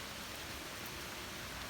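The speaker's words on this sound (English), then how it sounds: "It is a perfect rainy day." Steady rain falls outside on a chilly, roughly 60-degree morning, a soft even hiss with no gaps, faint and constant throughout, no voices.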